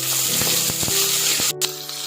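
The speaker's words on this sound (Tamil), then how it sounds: "வெங்காயம் நல்லா பொன்னிறமாக வர வரலும் ஃப்ரை பண்ணணும்" Chopped onions and green chilies frying in hot oil with spices for quail biryani, a steady close, loud sizzle with a few soft stirring knocks and a brief burst near the end.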